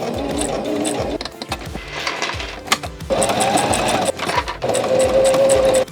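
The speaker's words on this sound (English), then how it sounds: "I'm going to be stitching down the middle" A sewing machine stitching fabric for a project made from recycled trash material, running in steady loud bursts with short stops and restarts, close and clear with no talk.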